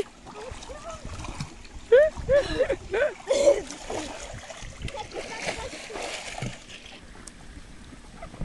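A person tumbles into water with a splash and sloshing, surrounded by several voices talking and laughing nearby.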